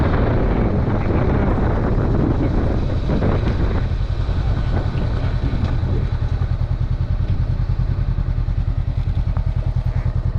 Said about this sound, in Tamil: That's a nice motorcycle.